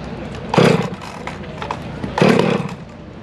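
A ported chainsaw engine at an outdoor lumberjack show revs in two loud bursts, with a lower, rougher running sound between them.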